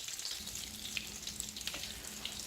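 Eggplant slices fry in a pan with a steady, close, hissing sizzle and scattered tiny pops and crackles throughout, and no voices.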